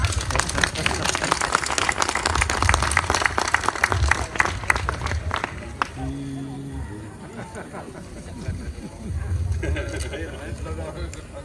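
A crowd at a wine tasting in Invorio cheers and claps loudly in a dense, sustained burst, then the clapping thins out and fades into a murmur of voices with a brief swell near the end.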